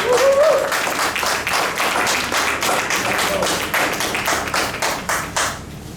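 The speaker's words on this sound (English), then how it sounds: "Give yourself a round of applause" Applause from an audience at a Ghana repatriation and investment conference, a dense steady wash of many hands clapping that thins slightly toward the end, with a brief voice at the start.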